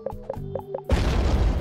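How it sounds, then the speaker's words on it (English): In the Roblox game Doomspire, a square bomb gives four short, evenly spaced beeps before a sudden loud, booming explosion that rumbles on to the end. "I'm using a square bomb."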